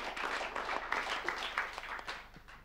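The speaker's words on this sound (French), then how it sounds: "merci, oui, pardon, on applaudit" Audience applause at a Paris ideas festival talk, a steady wash of many hands clapping at moderate volume, continuous with no voices over it.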